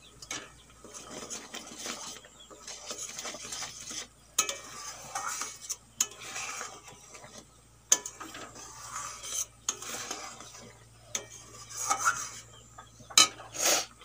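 Turmeric, chili, cumin and coriander powders with salt cooking down in a pan for chicken masala curry, a spoon scraping and stirring in intermittent close strokes with occasional sharp knocks against the pan.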